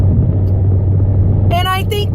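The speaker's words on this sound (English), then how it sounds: "that's a truck that's going slower than I am" Engine hum and low road rumble from inside a vehicle on a morning commute, with a slow truck ahead; a person talks briefly near the end over the steady drone.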